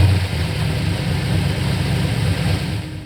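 A 1963 Chevy Impala with a small block 355 V8, roller cam and roller valve train, idles with a steady, deep, loping rumble, loud and close, with no talking.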